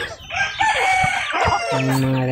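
A mature rooster crows loudly nearby, a drawn-out call that rises and holds, with softer clucking from other chickens around it.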